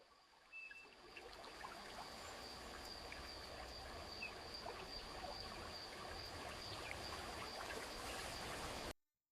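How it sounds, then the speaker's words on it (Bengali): AI-generated jungle ambience from Kling 2.6 with a waterfall: a quiet, steady chirring of insects over a soft continuous trickle of water, cutting off abruptly at the end. "এখানে কিন্তু আপনি স্পষ্ট বুঝতে পারছেন জঙ্গলের আওয়াজ এবং ওয়াটারফল যেই ঝর্ণার আওয়াজ হচ্ছে"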